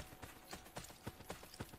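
Horse hooves in Assassin's Creed Brotherhood clop along in a steady, even rhythm. The hoofbeats are quiet and sound a little distant.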